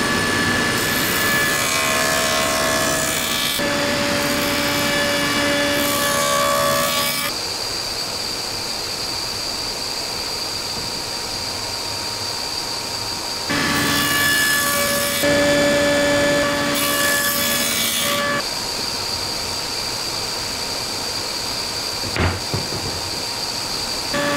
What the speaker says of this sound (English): Now that the jig is adjusted, I can start cutting the dados.